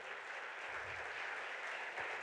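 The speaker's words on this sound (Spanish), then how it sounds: "denle un aplauso al Señor" Church congregation applauding during a sermon, a faint, even wash of many hands clapping heard from a distance for a couple of seconds.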